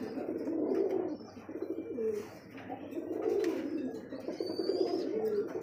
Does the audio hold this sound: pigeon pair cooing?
yes